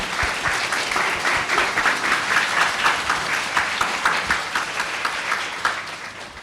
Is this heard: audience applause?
yes